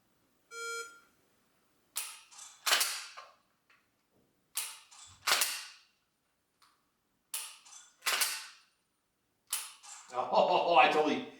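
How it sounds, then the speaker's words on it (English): Single-handed dry-fire trigger clicks with a Mantis laser training kit, several sharp close clicks spaced a second or two apart, each followed by short electronic beeps, with a busier burst of sound at the end. "we're going to be doing just single shooting with one hand, not having both hands on the trigger"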